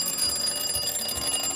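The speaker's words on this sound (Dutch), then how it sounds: "Alarm!" An alarm goes off with a continuous high, shrill electronic tone that persists throughout, over a low rumbling background.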